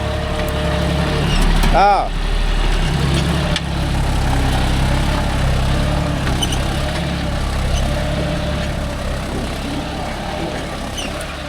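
A John Deere 5050D tractor engine runs steadily in a dry field, a constant low rumble under loud nearby talking.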